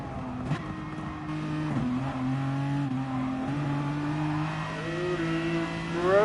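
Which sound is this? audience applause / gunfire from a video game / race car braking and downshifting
race car braking and downshifting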